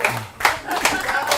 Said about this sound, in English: You can clap faster, like not that. Right, slow claps.